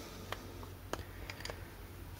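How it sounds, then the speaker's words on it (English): A broken ventilation servo in a Ford Transit gives faint, sparse clicks, a few irregular ticks over a quiet background hum. "Now I will show you what is generating that clicking noise"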